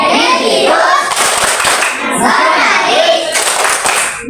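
Children chant and clap in rhythm together in a classroom, loud, close and continuous voices over brisk hand claps.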